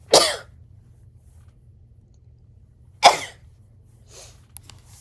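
Two sharp sneezes, close and loud, about three seconds apart, followed by faint sniffs in an otherwise quiet room.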